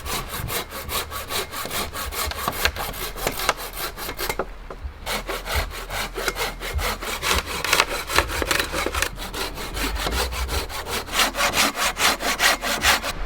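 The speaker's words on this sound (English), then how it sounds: "Stuff like this, it's just easier with the handsaw." A handsaw cuts through wood at a campsite on a 4WD trip in Tasmania. Fast, rhythmic rasping back-and-forth strokes sound close and steady, with one brief pause partway through.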